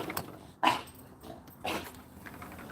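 An excited dog whines, yips and gives short growly bursts nearby indoors, a few sharp vocal outbursts separated by quieter panting and restless sounds.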